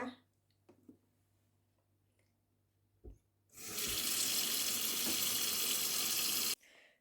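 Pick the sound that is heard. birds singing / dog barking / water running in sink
water running in sink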